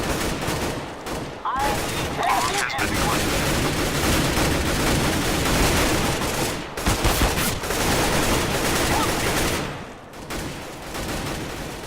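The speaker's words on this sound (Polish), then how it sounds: "tam strzelali do mnie trochę" Sustained gunfire in a Counter-Strike: Global Offensive bomb-defusal round, with loud, dense bursts of rifle fire rolling almost continuously and only brief lulls between volleys.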